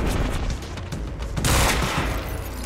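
Pistol gunfire in the video game Quantum Break, a rapid run of loud, close shots layered over dense battle noise, with no speech.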